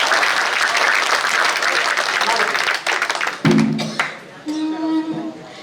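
Loud applause from a crowd at a Hindi kavi sammelan poetry gathering in Jaora, a dense burst of clapping that fades after a few seconds as voices and tonal sounds take over.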